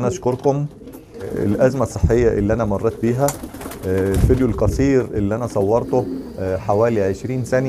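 French pure meat pigeons cooing in a loft, repeated throaty coos close by and clearly audible, running under someone talking throughout.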